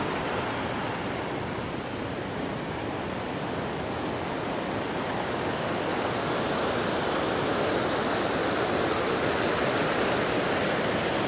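River water rushing at full flow through Hogenakkal falls, a dense, loud, unbroken roar of churning water that holds steady throughout with no voices.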